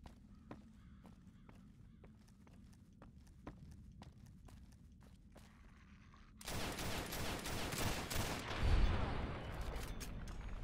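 A gun fires in Fallout: New Vegas with the Boulder Dome mod on a bridge. Faint regular ticks come first, then a loud, dense stretch of rapid shots fills the last few seconds.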